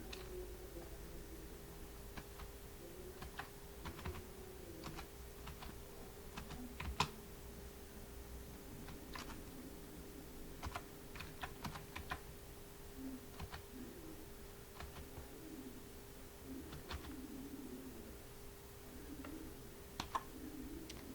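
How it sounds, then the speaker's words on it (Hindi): Soft clicking of a computer keyboard while a name is entered in an Excel spreadsheet, scattered quiet keystrokes in short clusters over a low steady hum, with no talking. "यहाँ पर हम अर्जुन की जगह हम दीपक लिख लेते हैं।"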